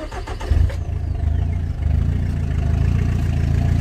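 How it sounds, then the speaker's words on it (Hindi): A Tata Vista car engine with its silencer removed cranks and catches, then settles into a loud, rough, throaty idle with a raw rumbling exhaust, recorded up close. "कार स्टार्ट हो चुकी है और अब मैं आपको दिखाता हूँ कि इसका साउंड क्या आ रहा है।"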